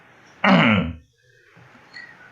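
One harsh, throaty cough bursts out close to the microphone, followed by quiet shuffling.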